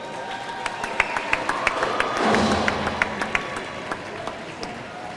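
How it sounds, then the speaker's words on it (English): Crowd at a high school hockey game claps and cheers in a big arena, a sustained wash of applause with sharp individual claps poking through, swelling briefly in the middle. "Ladies and gentlemen, please give a big round, warm round of applause to Mr."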